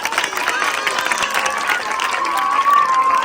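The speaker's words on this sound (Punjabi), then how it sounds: "ਤਾੜੀਆਂ ਮਾਰ ਦਿਓ ਭੈਣੋ ਤਾੜੀਆਂ ਮਾਰ ਦਿਓ" Girls clapping at a village ground gathering, dense continuous applause mixed with crowd noise, fairly loud and close, with voices underneath.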